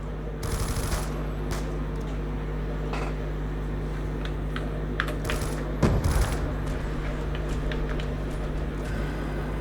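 RPD machine gun in Call of Duty Black Ops 2 Zombies firing long rapid bursts, loud and continuous with sharp cracks, brief pauses and a few heavier impacts, over constant game noise.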